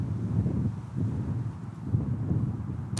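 Strong outdoor wind buffets the microphone, producing a constant low, rumbling roar with gusty surges and no clear speech throughout.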